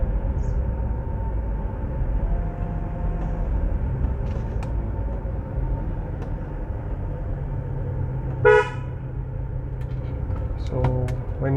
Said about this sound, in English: So when you honk,